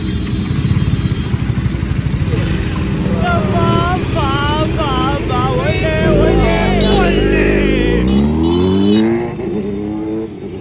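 A KTM Duke RC motorcycle revs on a busy Koramangala street in Bangalore at night, its engine rising and falling beneath a steady low rumble and near-constant overlapping voices of a crowd.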